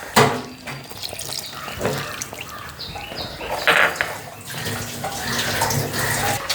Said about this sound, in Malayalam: കുറച്ച് വെള്ളം കൊണ്ട് ഒഴിക്കാവേ